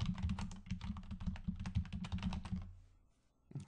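Rapid keystrokes on a computer keyboard as a local search phrase is typed, a dense run of close clicks for about two and a half seconds that then stops, with a faint thump at the end.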